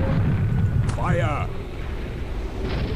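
Cannon fire in the airship combat game Air Buccaneers: a deep booming blast rumbles under a steady roar of wind, with a voice shouting over it.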